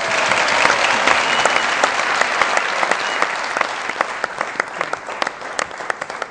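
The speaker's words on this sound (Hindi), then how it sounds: "आपकी बहुत सही तालियों में सैयद अरमगान अली" Studio audience applause on a Pakistani comedy show stage in Lahore, loud and steady dense clapping with sharper individual claps standing out, filling the whole stretch without speech.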